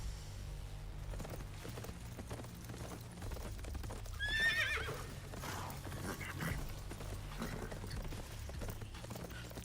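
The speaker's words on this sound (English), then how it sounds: "A horse is charging right at me." A horse neighs loudly and charges in a video game, giving a sharp whinny midway over steady galloping hooves and a constant low droning game soundtrack.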